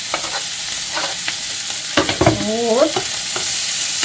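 Meat pieces stirred into browning flour in a pan alongside zucchini, giving a loud, bright hiss of frying with scraping stir strokes and a short spoken word partway through.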